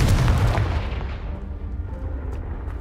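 A Confringo blasting spell bursts in Hogwarts Legacy: a loud, heavy explosive boom up front that rolls into a long, low rumbling decay as debris settles.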